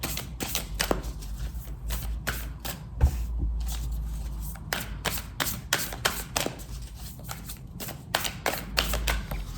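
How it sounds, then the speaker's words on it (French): Starseed Oracle cards are shuffled in a run of quick, crisp riffling flicks and soft slaps, close and fairly clear over a low background hum, with no talking. "On va tirer une carte du Starseed Oracle pour clôturer votre guidance sentimentale"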